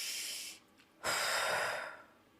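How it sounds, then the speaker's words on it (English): A deep breath drawn in and let out slowly, close and breathy, with a long airy inhale, a brief pause, then a sustained exhale that fades away, no words spoken. "Let's take a deep breath together."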